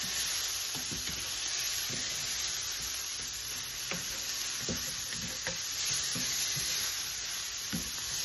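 Vegetables for a summer garden ratatouille fry in a skillet with a steady, broadband sizzle throughout, dotted with small pops and ticks, close and fairly quiet, with no talking.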